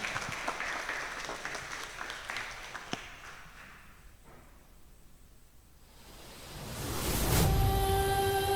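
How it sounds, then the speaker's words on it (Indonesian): Welcoming applause for the Srikandi dance team at a workshop held in the Rayz Hotel ballroom, UMM Malang: moderate scattered clapping that fades into a quiet lull before a swelling whoosh of sound and a tonal musical entrance. "Mari kita sambut dan berikan tepuk tangan yang meriah untuk menyambut tim"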